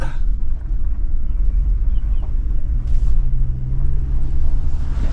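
Truck towing a trailer carrying a 32-year-old truck home along a road, heard as a loud, steady low engine rumble and road noise with no talking.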